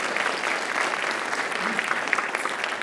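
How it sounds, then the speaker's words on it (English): A school audience at a writers expo claps steadily for two students who just told jokes to open a morning class period, a dense, even round of applause with a brief cheer rising over it. "Round of applause."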